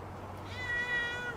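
A cat gives a single short meow, close and fairly soft against a quiet room, with no talking.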